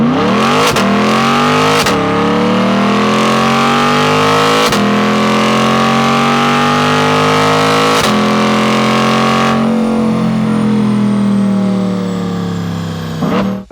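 A Chevrolet C8 Corvette fitted with a head and cam package revs hard on a dyno, climbing through the gears with sharp shifts; the engine note is loud, continuous and close, rising in pitch with each pull before tapering off at the end.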